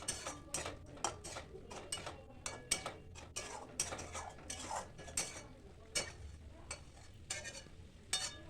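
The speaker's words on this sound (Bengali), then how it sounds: "ডিমগুলো দিয়ে ভালো করে নাড়াচাড়া করে" Spatula stirring fried eggs with garam masala in a pan for egg korma, giving irregular scraping clinks and taps throughout, fairly quiet with no talking.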